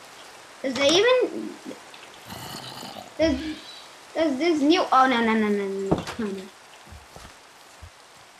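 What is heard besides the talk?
rain in video game Minecraft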